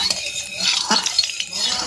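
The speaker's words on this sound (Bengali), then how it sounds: "এবার খুন্তি দিয়ে একবার কড়াতে মাখিয়ে নেব।" A metal spatula scrapes and clinks against a hot oiled wok, a few quick strokes in a row, close and fairly loud with no talking.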